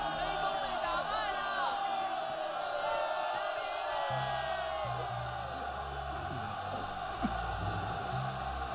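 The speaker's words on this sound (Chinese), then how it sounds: "听啊，陛下，他们在欢呼。" An animated ant army cheers its won war, a distant crowd roar of shouts and whoops blending into a continuous, faint din with no clear breaks.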